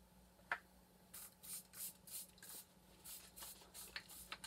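A series of short, soft body spray bursts in a quiet room, about eight hisses in a loose rhythm, close by.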